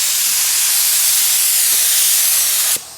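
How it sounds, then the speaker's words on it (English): Steady loud hiss of a Phoenix paint spray gun laying down neon orange base coat on car wheels, a continuous close spray that cuts off abruptly near the end. "So Trev's getting his gun all set up, his Phoenix."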